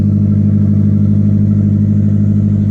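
A 2G DSM car engine with an open downpipe runs at a steady, loud, close-up drone with a throbbing low exhaust note and no voices.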